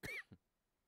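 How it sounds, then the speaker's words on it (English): A man with a cold coughs twice in quick succession: a sharp, raspy first cough and a shorter second one, close and alone, followed by near silence. "man, my coughing, I'm telling you what."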